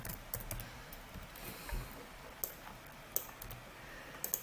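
Keys clatter on a computer keyboard as text is entered into a Google Sheets formula, in an irregular run of quiet, close clicks with a few sharper taps standing out.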